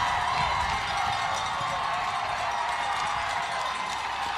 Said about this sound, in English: Powered on by the cheers of the crowd and just a little more cowbell.